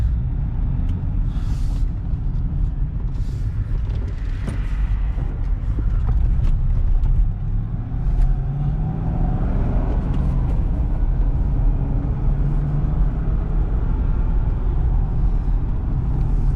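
A manual-transmission car driven on the road, its engine a steady low rumble from inside the cabin, with the engine note rising and shifting midway as it changes gear; no talking.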